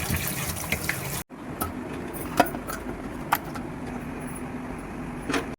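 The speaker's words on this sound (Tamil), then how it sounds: "பிரியாணிக்கு தேவையான அரிசியை தண்ணி ஊற்றி ஊற வச்சிடலாம்." Water poured over raw rice being washed for biryani in a home kitchen, a soft steady trickling and splashing after a brief cut, with faint clinks of grains and vessel, fairly quiet and close.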